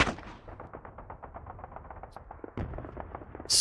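Rapid automatic gunfire from the war game Squad Battles Eagles Strike, a fast even burst of repeated shots running continuously, followed by a couple of heavier reports and a sharp loud blast at the very end.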